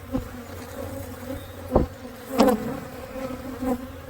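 Honeybees hum around an opened single brood chamber hive sitting in the sun, a steady close drone with a few louder buzzes as individual bees fly past.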